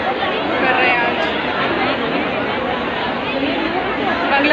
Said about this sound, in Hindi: आज एज यू कैन सी भाई भीड़ देख लो वाहेगुरु जी के दरबार पे